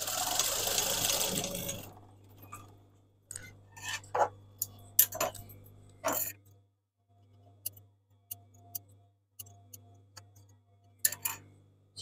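A sewing machine back tacks the waist seam of a maxi dress: a short, dense burst of stitching up close, followed by a low steady hum with scattered light clicks and taps.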